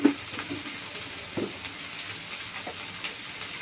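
Spices frying in hot oil in a pan over a gas flame, with turmeric, Kashmiri chili powder and salt just added. A steady, soft sizzle and hiss continues throughout, with a few faint stirring taps.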